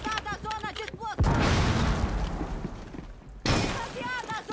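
A cluster charge goes off in Rainbow Six Siege: loud, close blasts with a crackling, shattering burst that decays, then a second sharp explosion, with game voice lines heard at the start.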